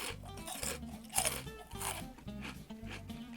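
Oven-baked dried fish snack, a crisp grilled fish jerky, being crunched and chewed up close, with steady repeated crisp bites and a few louder cracks.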